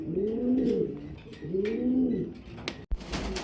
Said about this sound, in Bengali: এখানে ডিম সহকারে একজোড়া লাহোরি কবুতর দেখাচ্ছি